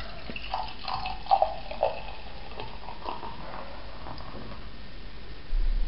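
Żywiec Porter beer glugs and trickles from the bottle into a glass, with faint gurgling pulses and small splashes, close and quiet, ending with a brief fizzing rise.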